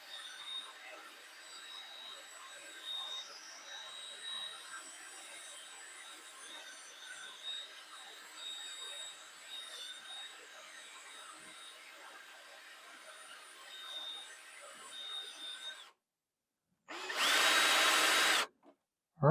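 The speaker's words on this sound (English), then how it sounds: "Drill slowly until I build up" A drill bit slowly bores a centered hole into a small divot to seat a threaded insert, with a steady grinding whir for most of the time, then a brief pause and one short, much louder burst near the end.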